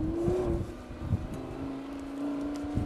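Lamborghini Huracan Spyder engine droning steadily at close range on the Circuit du Castellet track, a sustained tone rising slightly as the car accelerates, heard from inside the cabin with no talk.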